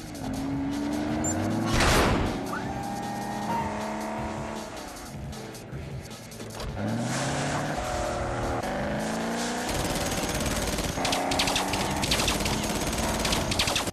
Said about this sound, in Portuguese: E James Bond fugindo num carro invisível de uma metralhadora